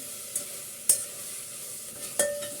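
Chicken polao masala being stir-fried on high flame in a pan, with a steady sizzle broken by a few sharp scrapes and stirring knocks, close and fairly loud with no talking.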